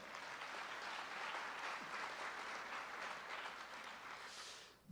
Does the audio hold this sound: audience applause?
yes